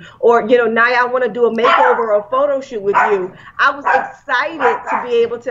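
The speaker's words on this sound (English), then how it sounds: "I'm sorry, that's my dog." A pet dog barking indoors at home, the barks mixed into steady close speech from a woman, intermittent and partly masked by her talking throughout.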